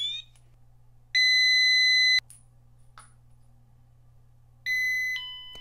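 A Radiacode 102 radiation detector alarming near the americium-241 source from a smoke detector: loud, steady electronic beep tones lasting about a second, brief chirps in between, then a longer alarm tone near the end.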